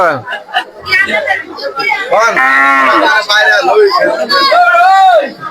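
Loud, drawn-out cattle moos repeat one after another, close by, over busy crowd chatter and voices of people talking nearby at a livestock market.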